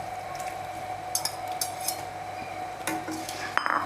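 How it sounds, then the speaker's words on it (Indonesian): A utensil scrapes and clinks against a pan as tofu is stirred into a squid ink stir-fry, giving soft irregular taps over a low steady background, with no talking. "Kita aduk-aduk sebentar."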